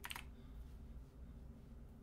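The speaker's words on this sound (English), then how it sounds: "Cat, I need you to not walk all over the keyboard" Cat walking over computer keyboard keys, a few faint quick key clicks at the start and then a quiet, steady background.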